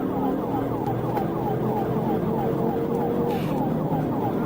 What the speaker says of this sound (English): Florida Highway Patrol Trooper Walner Roy switched on his sirens and gave chase.